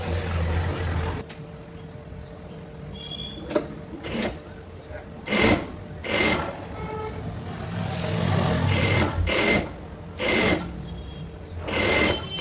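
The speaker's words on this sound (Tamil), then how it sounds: "கிராஸ் பீஸ் மட்டும் ஸ்டிச் பண்ணணும்." A sewing machine stitching the cross piece of a lined blouse runs in several short motorized bursts separated by pauses, sitting close and moderately loud over a low room hum.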